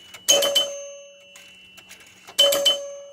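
The scoring bell of a Capt. Fantastic pinball machine rings twice when a target is hit, as two bright, clear chimes about two seconds apart. Faint mechanical clicks fall between them.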